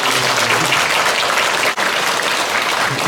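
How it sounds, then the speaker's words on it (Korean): Congregation applause at a Sunday church service welcoming a newly registered member, a loud, dense, continuous wash of clapping from a full room with a brief dip midway. "박수로 환영하겠습니다."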